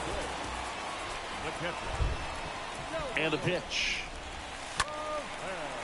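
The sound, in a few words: rain falling in MLB The Show 22 video game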